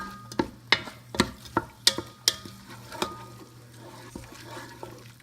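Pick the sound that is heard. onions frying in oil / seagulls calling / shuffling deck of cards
onions frying in oil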